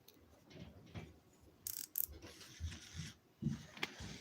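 The drag on a Kastking Zephyr BFS baitcasting reel is loosened, giving a few quiet, irregular mechanical clicks and ratchety ticks close up, with soft handling noises between them.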